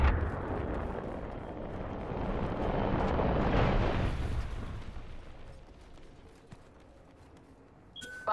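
Lifeline care package dropping in during an Apex Legends match, a rumbling descending whoosh that builds to a loud roar and fades into a thud, followed by a short metallic clank.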